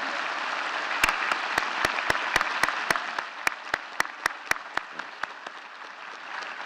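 Audience applause at a university's 2022 State of the University address: a moderate wash of clapping with loud individual claps standing out, gradually thinning toward the end.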